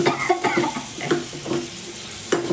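Potatoes frying in a pan and being stirred, steady sizzle broken by several scraping stir strokes at irregular intervals, close and fairly loud, no talking.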